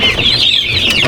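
Meat-type Rhode Island Red roosters cluck steadily at close range, a dense, continuous burst of fowl calls with some wing flapping and no talk.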